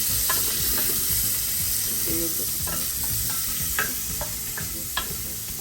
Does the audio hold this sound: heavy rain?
no